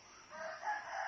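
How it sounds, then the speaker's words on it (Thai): A rooster crows once, a brief clear call heard at a moderate distance. "ไก่ชีเจงแล้วล่ะ"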